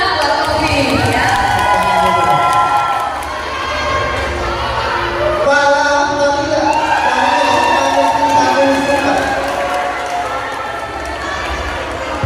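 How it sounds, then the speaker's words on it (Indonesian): An audience at a regional reading-ambassador grand final in Cirebon cheers and applauds the winner, Tommy, a loud continuous crowd roar with shouts and whistles over dense clapping, and voices calling out throughout. "Boleh kasih tepuk tangan buat Tommy ya."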